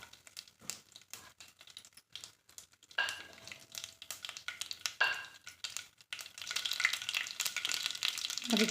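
Onions with mustard seeds sizzle and crackle in a hot pan for tomato thokku, with intermittent stirring scrapes and bursts of frying growing busier toward the end.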